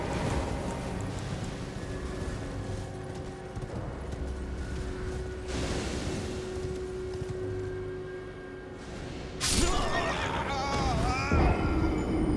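A horse in the video game Elden Ring gives a loud whinny near the end, over a steady game soundtrack and ambience, with hoof and movement sounds.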